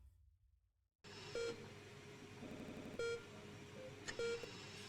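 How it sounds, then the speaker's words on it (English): Heart monitor in the video game Not For Broadcast, beeping in a steady rhythm of short electronic tones, each spaced about a second and a half apart, over a low ambient hum after a brief silence. "Rhythmic beeping of the heart monitor brings you slowly back to conscious."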